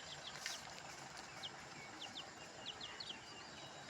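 Two newly bought hens in a yard cluck softly, with a few faint, high calls scattered over a steady outdoor background hiss.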